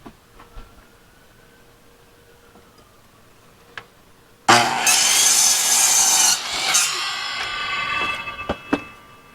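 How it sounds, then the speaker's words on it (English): A saw cuts wood for a planter box, one loud sustained burst of cutting that starts abruptly midway and runs for several seconds, with sharp knocks near the end and quiet room tone before it. "We want to put our saw back to a square cut."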